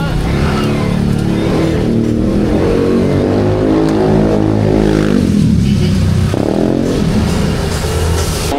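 A parked car's engine runs and revs up repeatedly, loud and close throughout, with rising and falling pitch sweeps; a voice speaks briefly underneath.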